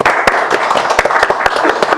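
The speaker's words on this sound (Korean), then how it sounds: "우리 곽쌤께 박수 한번 쳐드릴까요?" Studio audience at a televised panel debate clapping steadily for about two seconds, loud and close, with sharp individual claps standing out from the dense patter.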